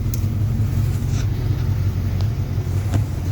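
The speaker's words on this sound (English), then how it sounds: "She sounds a whole lot better since we got O2 sensor replaced." A car with a straight pipe exhaust and a newly replaced O2 sensor idles after a cold start, a loud, steady low rumble throughout with a few faint clicks and no voices.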